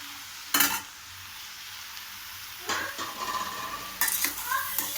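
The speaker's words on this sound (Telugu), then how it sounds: "బాగా తిప్పుకోవాలి." Cabbage and tomato chutney is stirred in a pan, with a few sharp scrapes and clinks of the spoon against the metal over a faint background sizzle, fairly quiet and close.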